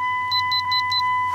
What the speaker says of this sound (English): it'll beep 4 times